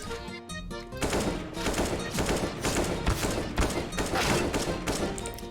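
Rapid automatic gunfire rattles in dense overlapping bursts from a Counter-Strike: Global Offensive match, loud and sustained after a brief lull, with no voices.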